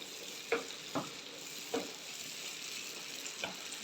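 A spoonful of garlic sizzling in fully melted butter in a pan, a soft, steady crackle close by with a few sharper taps of a utensil, and no talking.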